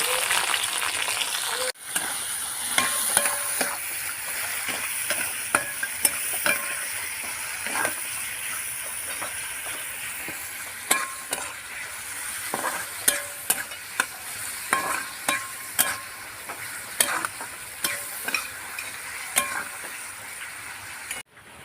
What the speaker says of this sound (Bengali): তেলটা গরম হয়ে গেছে, তেলের মধ্যে দিয়ে দেবো পেঁয়াজ কুচি